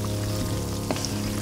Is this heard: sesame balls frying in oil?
yes